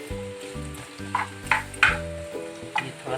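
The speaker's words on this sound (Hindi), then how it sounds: "इसमें पहले प्याज को फ्राई करूंगी।" Onions frying in a pan over high heat for a jackfruit and kabuli chana biryani, giving a soft sizzle broken by several short scraping stirs, close, with a steady low hum beneath and no speech.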